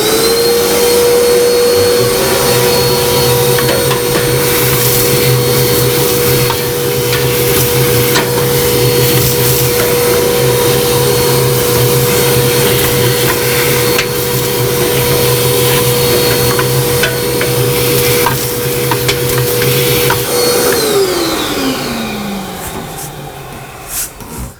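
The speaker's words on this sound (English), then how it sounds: "Let me get my shop vac and I'm going to clean this out." A shop vac runs loud and close while vacuuming out a waste oil heater in a workshop, a steady high whine with a droning motor hum that holds for about twenty seconds before it winds down.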